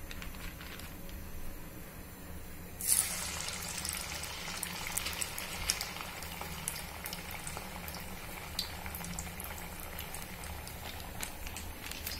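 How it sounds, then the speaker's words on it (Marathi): Spinach vada fry in a pan of hot oil at medium heat, a dense steady sizzle and bubbling that runs loud and continuous throughout, with a brief louder burst as a patty goes in. "अशा पद्धतीने आपण वडे तळून घेणार आहोत."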